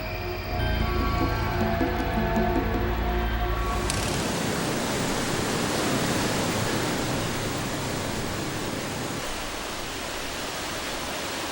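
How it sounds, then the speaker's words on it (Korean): Jiktang Falls on the Hantan River, a wide, low waterfall about three metres high and fifty to sixty metres across, roars in a broad continuous rush after a few seconds of music fade out. "곧은 여울이란 뜻의 직탕 폭포는 다른 폭포와는 달리 높이는 3m 정도지만 폭은 5, 60m나 되는 옆으로 길게 뻗은 폭포다."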